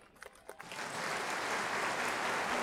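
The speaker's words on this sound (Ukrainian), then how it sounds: "Гучніше, гучніше оплески!" Applause from a large outdoor crowd at a Boryspil city day celebration, starting with a few scattered claps and swelling into sustained, loud, dense clapping.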